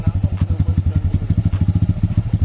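A motorcycle pulling away on a hill as a learner eases out the clutch in a Jamaican riding lesson, engine thumping in fast, loud, close pulses throughout.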